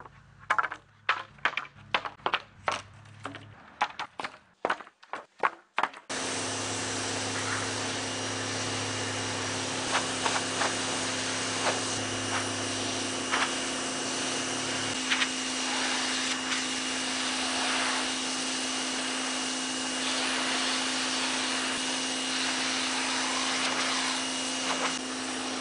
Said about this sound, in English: we're going to be using the West Force pressure washer again